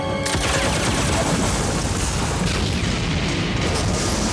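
A warehouse explosion in a low-budget action film: a loud, dense roar of blast and rumble sustained throughout, with crackling debris and gunfire-like bursts filling the whole stretch.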